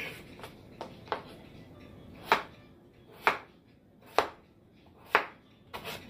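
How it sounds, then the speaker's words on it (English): Boiled potatoes being cut into cubes with a knife on a board: a series of about nine distinct chops, irregular at first and then evenly spaced, close and crisp over a quiet room. "as soon as I cut them into cubes"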